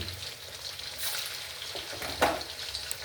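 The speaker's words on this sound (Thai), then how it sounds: "วันนี้ผมจะเอาปลาดุกทอดก่อนนะครับ" Flour-coated catfish fries in hot oil for a Thai stir-fried chili catfish dish, giving a steady close sizzle and crackle with a few sharper pops.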